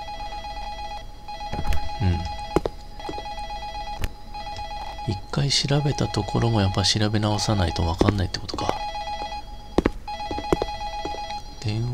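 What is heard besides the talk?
telephone ringing in a Japanese horror video game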